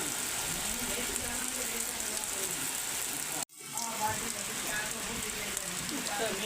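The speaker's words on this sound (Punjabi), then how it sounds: "ਬਾਰਿਸ਼ ਬਹੁਤ ਤੇਜ਼ ਹੁੰਦੀ, ਬਾਰਿਸ਼ ਰੁਕੀ ਨਹੀਂ ਹੈ" Heavy rain pours steadily around a mud house, a dense continuous hiss broken by one brief dropout, with faint voices underneath.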